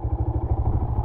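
A motorcycle running with a rapid, even low-pitched engine pulse, close and steady for a brief moment.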